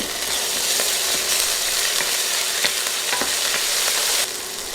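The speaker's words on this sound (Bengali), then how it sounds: "বাটা মশলাগুলো তিরিশ সেকেন্ড ভেজে নেব" Garlic and ginger paste sizzles steadily in hot oil at the start of a khichuri, a close, even crackle for the whole stretch with a few faint stirring clicks and no talking.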